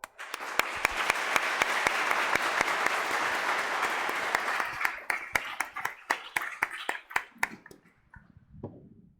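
A church congregation applauds newly confirmed youths at a confirmation Mass: loud, dense clapping that gradually thins out into scattered individual claps before fading to quiet.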